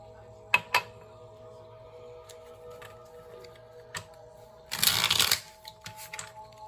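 Tarot cards being shuffled in a brief riffling burst near the end, preceded by a few light taps and clicks of cards, in a quiet room.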